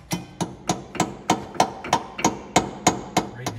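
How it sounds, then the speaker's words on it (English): Hammer blows strike steel parts while a truck power divider is pulled apart: about eleven sharp, evenly spaced metallic hits, loud and close, with no talking. "Give me that hammer for a bit."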